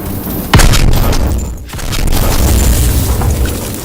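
A grenade blows up in the Call of Duty WWII Hill 493 mission, one loud sharp blast with debris and battle noise rumbling on after it.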